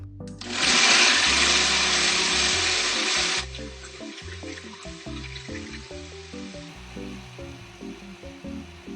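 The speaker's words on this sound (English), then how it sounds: "I'm putting everything in the blender except for that cinnamon stick" A blender purees butter chicken sauce made from blended ingredients. It roars loud and close for about three seconds, then drops to a lower, uneven whir as the thick sauce churns.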